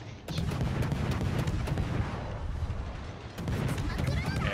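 Colbert cruiser turrets in World of Warships firing rapidly, dense overlapping booms in quick succession, loud and nearly continuous.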